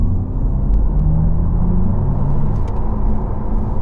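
An Audi RS e-tron GT electric car launches hard, a loud continuous low rumble and whir of road and drivetrain noise holding steady, with faint high electric whine and no talk.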